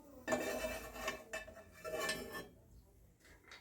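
Ingredients, including roasted gram dal, are dry-roasted and stirred in a pan while making pooriyan, giving a close scraping, rattling clatter of utensil against metal in two busy bursts that fade toward the end; no one speaks.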